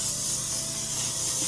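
Makeup setting spray mists onto a face in one continuous airy hiss, close and fairly loud, with no talking.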